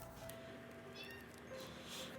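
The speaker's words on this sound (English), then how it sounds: "there goes my cat, howling" A house cat howls quietly in the background, with drawn-out meowing cries that are faint and somewhat distant over a steady room hush.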